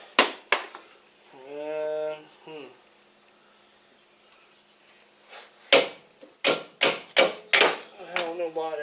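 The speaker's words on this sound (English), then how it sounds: "I find it's best to just hammer shit." Hammer blows ring out during a brake replacement on a 1998 Lexus ES300, a string of sharp metallic strikes in quick uneven succession that follows a stretch of talking.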